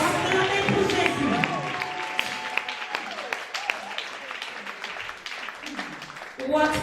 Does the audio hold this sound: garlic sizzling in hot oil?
no